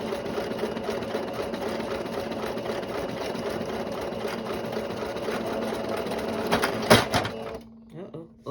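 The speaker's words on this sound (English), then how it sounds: "I'm zigzag stitching the elastic band together" A sewing machine runs a zigzag stitch across an elastic waistband, a steady close mechanical whir with a rapid needle rhythm that stops abruptly near the end, followed by a few faint clicks.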